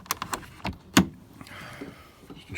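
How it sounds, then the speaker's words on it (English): A door on a Toyota Prado 120 is pushed shut with one solid thump, preceded by a few light clicks and rattles, followed by a quieter rustle. "Let's just shut this door."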